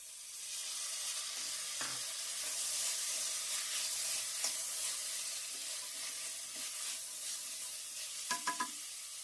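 Beans sizzle and fry in masala in a pan for a carrot and beans curry, a steady hiss running throughout, broken by a few soft clinks of stirring, the last ones near the end.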